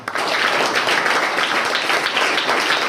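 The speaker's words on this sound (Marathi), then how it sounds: "तर यांच्यासाठी जोरदार टाळ्या वाजवा" Enthusiastic applause from a crowd at an Independence Day school programme, dense steady clapping that carries on throughout at close range.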